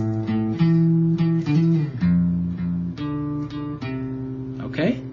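Guitar playing a bass line, a sequence of plucked low notes with clear sustained pitches, close and fairly loud, ending in a short slide.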